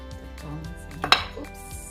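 Kitchen tongs knock against beef bones and a pot while making Vietnamese pho, a few light clanks with one sharp metallic clink standing out near the middle.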